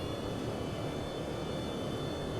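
F/A-18 jet engine at full throttle in the IL-2 1946 flight simulator, a steady, loud, continuous roar with broadband rumble and hiss that holds unbroken throughout, with no voices.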